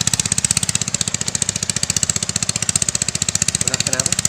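A heavily loaded delivery vehicle running on a single engine, throbbing in a steady, fast pulse at close range throughout, with brief voices toward the end.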